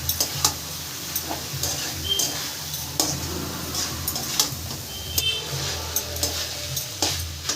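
Spiced rice being stirred and mixed in a frying pan for fried rice, with repeated scraping and clinks of a spatula against the pan over a soft sizzle, close and fairly quiet.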